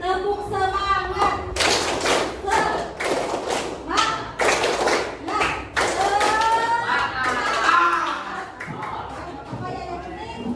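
A group of children doing a rhythmic 'tepuk semangat' clapping chant in a classroom, sharp claps and taps in a patterned beat alongside chanting voices, loud and close.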